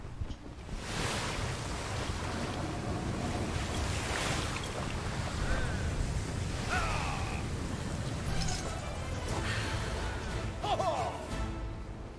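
Wind gusts and ocean waves roll through a naval battle in the pirate game Atlas, a steady full-band wash of sea and wind with faint scattered sounds layered on top for the whole stretch.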